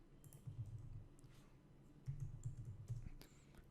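Quiet clicking of a computer keyboard as a short file name is typed, with keystrokes arriving in two quick bursts and a few louder taps between, close and alone in a quiet room.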